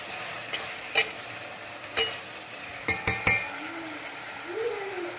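A spoon stirs mango and brinjal in a cooking pot, giving several sharp metallic clinks over a soft, steady sizzle in a quiet kitchen.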